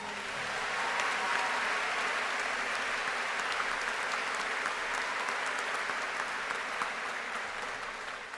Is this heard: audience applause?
yes